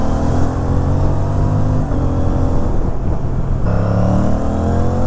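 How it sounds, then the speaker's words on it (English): Motorcycle fitted with a custom exhaust and a dB killer, giving a steady, bassy, near-stock drone at a constant idle or cruise with no speech. "With the DB killer, the exhaust is almost close to stock, a little more bassy than stock"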